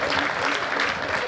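Audience at a Hindi comic poetry gathering bursting into dense, lively applause, close and continuous throughout the short stretch.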